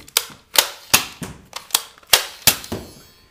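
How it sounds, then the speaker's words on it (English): A Nerf toy gun is worked close up, giving about eight sharp plastic clacks and snaps in an irregular run, each loud and quickly decaying, with no speech. "You simply pull this back and it's ready to shoot again."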